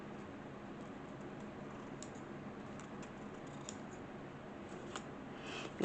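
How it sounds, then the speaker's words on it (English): Faint scissor snips trimming coffee-dyed paper for a Victorian-style letter and envelope, a few soft, irregular cuts over a steady background hiss. "I've got a little bit more trimming to do here"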